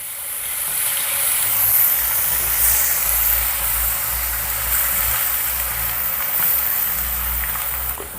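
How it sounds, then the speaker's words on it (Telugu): Ginger garlic paste frying in a pan for a spicy Rayalaseema-style egg masala curry gives a loud, steady sizzle and hiss that runs unbroken from start to end, close up, with no talk over it. "ఇప్పుడు ఈ అల్లం వెల్లుల్లి పేస్ట్ని పచ్చివాసన పోయేంత వరకు వేపుకుందాం"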